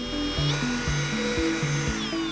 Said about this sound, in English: drill a hole at each mark